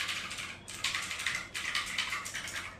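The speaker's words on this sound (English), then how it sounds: "Hear the typing sounds." Keys clack in quick bursts on a Rapoo GK500 mechanical gaming keyboard, crisp close taps grouped into short runs with brief pauses between them, no voices.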